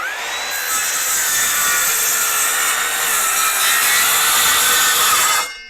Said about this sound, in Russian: Давайте посмотрим, как это будет все выглядеть.